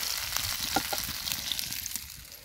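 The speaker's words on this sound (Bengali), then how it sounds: "এই যে আমার দ্বিতীয় ব্যাচও চাপ ভেজে নিছি" Chicken chap frying in hot oil in a Bengali village kitchen, a dense, close crackle and bubbling sizzle that holds loud throughout and eases slightly at the end.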